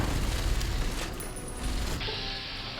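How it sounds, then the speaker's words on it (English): Incoming gunfire in Fallout New Vegas during the battle of Hoover Dam: dense booming shots and mechanical clatter mixed with explosions, loud and continuous with no talking. "They're putting loads of rounds at me though."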